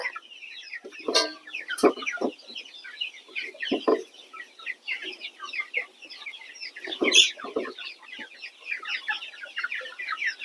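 A steady chorus of clucking chickens during weighing of a hen and rooster, busy and continuous, with a few louder squawks breaking out near the middle.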